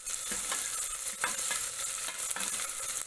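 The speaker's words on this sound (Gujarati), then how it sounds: "પછી તેની અંદર આપણે લીલું લસણ ઉમેરીશું" Green garlic is stirred into fenugreek khichdi in a pan: a continuous gentle sizzle with repeated scraping stirs, close and moderately quiet, with no voices.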